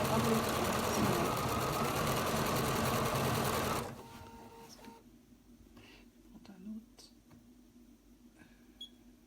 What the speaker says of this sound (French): il ne faut pas hésiter à vous amuser avec les possibilités de votre machine en point décoratif